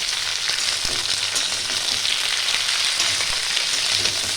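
Chopped bottle gourd sizzles steadily in a hot pan as it is stirred, with a dense, continuous frying hiss and a few soft scrapes of the spoon against the pan, close and fairly loud.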